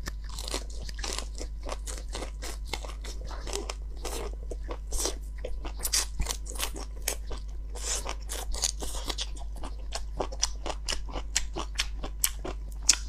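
Crunchy chewing of raw Siberian ginseng (ci wu jia) leaves eaten with dipping sauce, close and steady, with rapid repeated bites and crackly crunches throughout and no talk.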